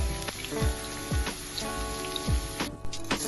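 Carrots fry in hot oil in a pan while making Turkish maklube, giving a steady, dense crackling sizzle with a few soft low thumps throughout.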